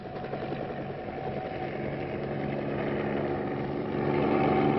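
A military helicopter in the Alps in 1970 gives off a steady, loud rotor-and-engine drone that slowly grows louder over about five seconds, heard alone with no talk.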